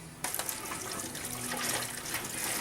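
Clear, orange-copper homebrew wort runs into a pitcher in a steady, hissing splash that starts suddenly and continues without a break.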